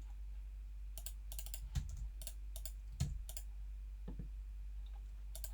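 A one-time password is tapped out on a computer keyboard in quiet, scattered clusters of crisp key clicks, with a few heavier thumps between them and no voices.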